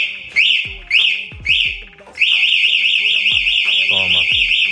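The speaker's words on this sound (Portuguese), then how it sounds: "Disparou o alarme." An electric scooter's anti-theft alarm wails in rising, repeating chirps, starting with three short bursts and then sounding continuously, loud and shrill, with a voice speaking underneath.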